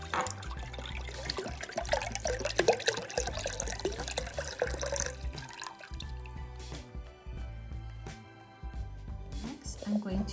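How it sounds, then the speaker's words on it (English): Turkey broth is poured into a crock pot, a liquid splashing and trickling for several seconds before tapering into faint drips, with a person talking over it. "So I'm just going to pour that right into the crock pot."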